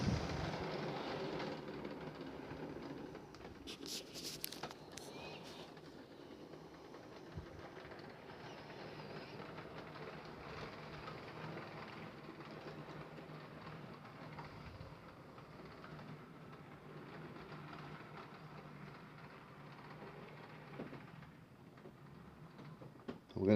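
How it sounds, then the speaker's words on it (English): A Class 33 locomotive hauling a parcels train rumbles in at a distance with a low, steady rolling noise and faint wheel clatter, birds chirping softly in the background. "33 coming in on a parcels train"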